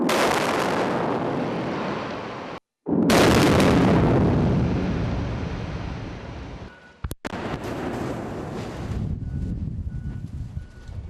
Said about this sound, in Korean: 잠시 후 터널 밖까지 엄청난 바람과 굉음이 밀려왔다